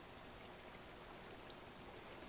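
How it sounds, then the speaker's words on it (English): A Minecraft waterfall gives a steady, soft rushing hiss of falling water, continuous and fairly quiet with no voices over it. "Waterfall."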